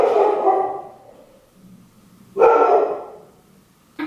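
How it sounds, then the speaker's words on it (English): A dog barks at the mailman indoors: two loud, close barks a couple of seconds apart, the first drawn out with a softer tail, then a short yip cut off at the end, with no talking. "Sage, don't bark at the mailman."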